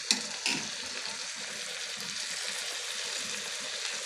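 Ghee chicken sizzling in a pan, a steady bright hiss of frying with two brief stirring clatters near the start, no talk.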